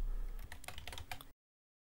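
Quick bursts of key clicks on a computer keyboard as a table name is typed, close and clear, about a second of rapid uneven tapping that then stops in silence.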